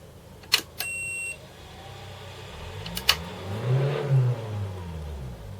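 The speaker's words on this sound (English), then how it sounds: "Someone's really going for it out there with an engine." A car engine revs hard somewhere outside, a muffled rising roar building over a few seconds after a couple of sharp clicks and a short beep nearby.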